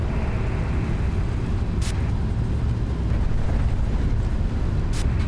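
A PMDG 777-300ER airliner touches down on the runway in Microsoft Flight Simulator 2020, a heavy, continuous low rumble with two short hissing bursts partway through and no talking.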